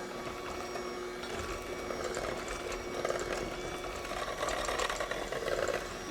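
Electric hand mixer beating egg custard pie filling at low speed, a steady whirring drone with faint rhythmic clicking that swells slightly toward the end, close and alone.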